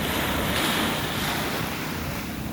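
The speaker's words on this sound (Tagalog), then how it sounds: "Umaya na sa dagat." Sea waves wash onto the shore in a continuous close rush of surf, fairly quiet and steady, with wind noise over the microphone and no voices.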